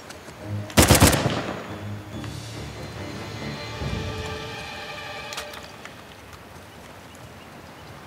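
Gunfire shoots down an enemy in the video game Uncharted The Lost Legacy: a sharp, loud burst of shots early on, followed by fading game effects and a fainter crack a few seconds later.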